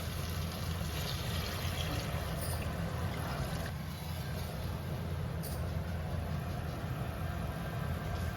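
Water poured into a single cooking pot while cooking a lentil-and-vegetable dish in a village kitchen, heard as a steady, continuous rushing wash that stays loud and even from start to finish, with no talk.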